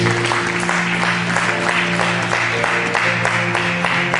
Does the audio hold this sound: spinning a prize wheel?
no